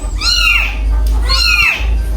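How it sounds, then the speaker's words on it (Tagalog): A kitten mews twice in a row, each call rising and falling in a thin, high whine, close by against a low steady hum. "Baby cat."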